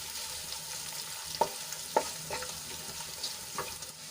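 Quiet sizzling of crushed peanuts sautéing in a pan, with a few sharp scrapes of a spoon stirring at intervals, close by and without speech.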